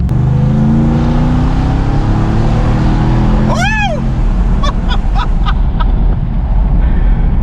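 A Ram TRX pickup truck makes a loud, sustained engine roar with deep exhaust rumble throughout, a brief rising whine partway through, and a few sharp high clicks near the end.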